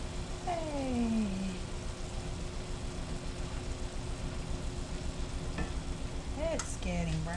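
Boneless pork chops frying in a pan give a steady, moderate sizzle, while a cat meows several times in the background.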